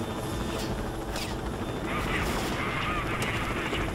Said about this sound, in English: Oh, another helicopter gonna crash.